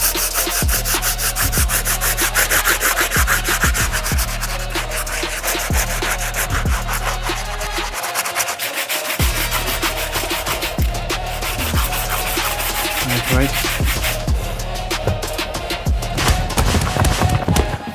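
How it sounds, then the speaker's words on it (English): Stiff bristle brush scrubbing the rubber outsoles of UGG Tasman suede boots, loud close rhythmic rasping strokes repeating rapidly without pause, with a brief dip in intensity midway. "we still gotta take care of these outsoles using our stiff bristle brush"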